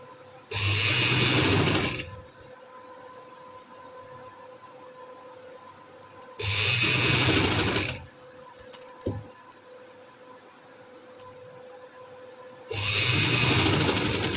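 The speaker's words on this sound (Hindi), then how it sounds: "आराम आराम से सिलाई लगाते जाएंगे।" A sewing machine stitches trouser fabric in three loud, even bursts of about one and a half seconds each, separated by quiet pauses with faint handling noises.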